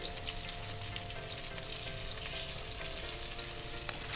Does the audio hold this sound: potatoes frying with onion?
yes